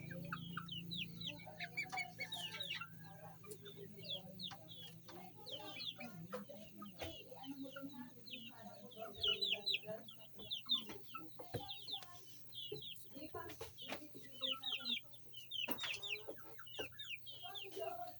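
Hens and roosters cluck busily in a backyard flock, overlapping calls near and far with occasional sharp squawks against low background hum, while people talk quietly at times.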